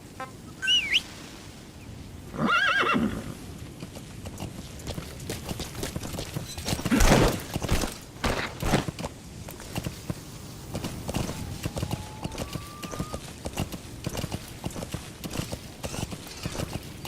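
A horse in Metal Gear Solid V, with hoofbeats clopping steadily through the wilderness, a brief neigh or snort early on and chirping birds in the background.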